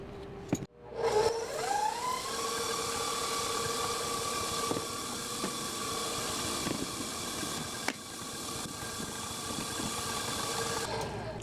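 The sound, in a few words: electric mixer mixing graham cracker dough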